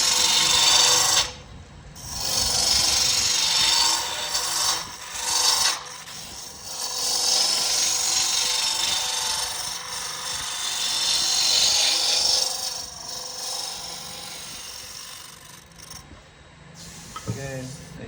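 A wooden goblet spinning on a lathe while a chisel cuts a tenon on its base, giving a steady scraping, rasping hiss close up, broken by brief pauses as the tool lifts off the wood.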